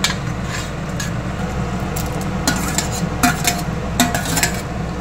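Prawns stirred into a thick, simmering gravy in a pan for prawn malai curry, with a steady sizzle and repeated scraping and clinking of a spoon against the pan, fairly close and alone.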